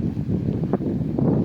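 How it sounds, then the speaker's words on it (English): Gusty wind buffets the microphone in a continuous low rumble in a garden, loud and close, with no voices. "it is very windy today"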